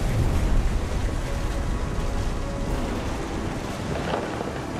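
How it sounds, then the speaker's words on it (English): Thunder and rain from the What Remains of Edith Finch video game, a steady dense wash of rainfall with deep rumbling thunder swelling early and then settling into a continuous storm roar. "The thunder sounded much too close and full of angry power"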